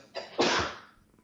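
A short intake is followed by a single burst of a sneeze, moderately loud and close, fading quickly into quiet.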